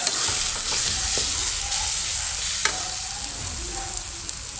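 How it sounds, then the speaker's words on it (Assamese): Masala spices frying in hot oil for a Bengali-style dry fish curry, a steady loud sizzle with occasional scrapes of a spoon stirring, continuous throughout with no talk. "এয়া চাওক, মোৰ মছলা তেল এৰিব লৈছে"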